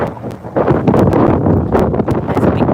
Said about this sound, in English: There's a big gust of wind.